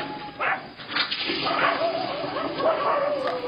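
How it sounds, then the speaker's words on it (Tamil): A dog barks several times in short, scattered bursts at moderate volume, with a faint voice and background noise. "நாய் வேற எப்படி கத்துது?"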